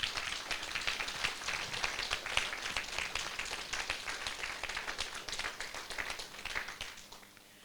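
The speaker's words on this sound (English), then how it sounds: "if we can give him a standing applause here" A standing ovation from a community roundtable audience, continuous dense clapping at an even level for several seconds before tapering off at the end.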